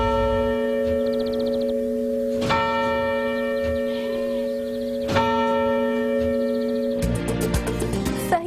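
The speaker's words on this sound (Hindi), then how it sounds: "वक्त बताती सुइयां, घंटे की आवाज जो दूर तक सुनाई दे।" The clock tower bell at Hyderabad Model School rings with long, sustained tones. Strikes recur every few seconds, resonant and carrying far, and a brighter cluster of chimes comes in near the end.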